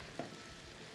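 Sliced garlic is stirred in a pan of hot olive oil, a quick scrape of the spoon over a low continuous sizzle, close and quiet, very short.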